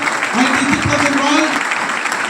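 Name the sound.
audience applause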